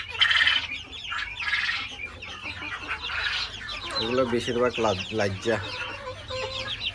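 Young deshi roosters and hens on a farm clucking and squawking in a busy, overlapping chorus, close by, with someone talking over them.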